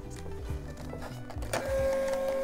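A thermal shipping label printer, Dymo or Rollo, draws in fed label paper and registers it: a brief hum, a few low mechanical clicks, then a steady motor whine that holds to the end, close and moderately loud.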